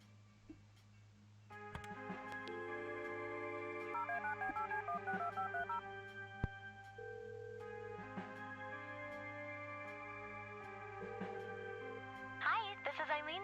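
Telephone keypad tones beep in quick sequences over steady electronic hum and background music in the Kathy Rain game, with clicks and a brief ringing burst near the end.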